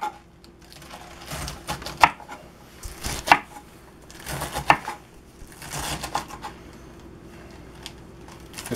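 Knife chopping greens on a cutting board for a chuck roast, several sharp, distinct chops spaced a second or so apart, near and fairly quiet with soft kitchen noise between strokes.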